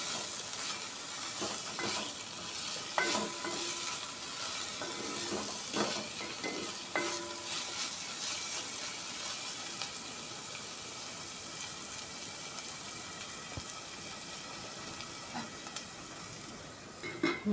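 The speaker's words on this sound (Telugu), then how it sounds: "ఒకసారి తిప్పుతున్నానండి." Drumstick pieces and rock salt stirred in a frying pan for a tomato curry, scraping and sizzling with intermittent spoon clicks throughout, steady and close with no talking.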